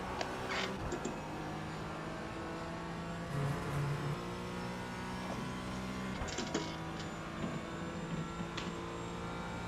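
A race car engine in a VR racing simulator at VIR drones as a quiet, steady hum with tonal whine, rising and falling with throttle, plus a few faint clicks, without speech.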